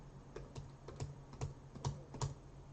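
Fingers typing on a computer keyboard during a live eBay baseball and football card break, giving a run of light, moderately spaced clicks at a steady pace in a quiet room.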